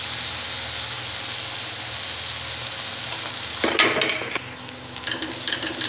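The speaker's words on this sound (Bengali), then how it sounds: "দিয়ে আমি শাকটাকে এবার ভাজা হতে দেবো।" Nate spinach leaves with slit green chillies frying in oil over medium heat, giving a steady close sizzle throughout, with brief louder crackles and stirring clatter of a utensil against the pan near the end.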